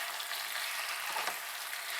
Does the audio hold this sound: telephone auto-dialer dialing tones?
no